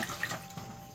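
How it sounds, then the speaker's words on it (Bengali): Potatoes washed by hand in running water to rub off skin and soil, a brief close splashing and trickling of water with soft rubbing. "আর বন্ধুরা এই তোমার মা ধুয়ে নিচ্ছে, হাত দিয়ে একটু ধুয়ে দিচ্ছে, তাতেই উঠে চলে যাচ্ছে খোসা"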